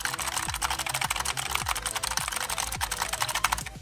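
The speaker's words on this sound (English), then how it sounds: "This is what the keyboard sounds when you are gaming or streaming" Fast clacky keystrokes from an EVGA Z20 optical mechanical gaming keyboard with clicky switches, a busy run of sharp clicks heard up close, ending abruptly.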